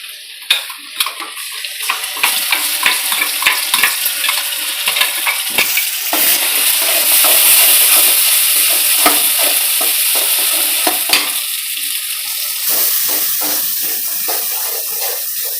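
Ground masala paste for a Tamil fish curry is sautéed and stirred in a hot pan: a close, steady frying hiss broken by repeated scraping and knocking strokes of the spoon.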